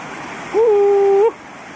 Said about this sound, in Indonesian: di sini pertigaan pertemuan sungai. Jadi airnya gede ya guys, jernih lagi.